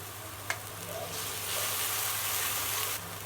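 A ground paste of green chilli, cumin, coriander and onion tipped onto fried onions in a hot pan, setting off a loud, steady close-up sizzle after a brief click, continuing without talk.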